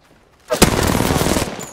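Rapid automatic gunfire from the battle royale shooter Apex Legends bursts in after a brief quiet lead-in and rattles on loudly and densely for over a second before easing off.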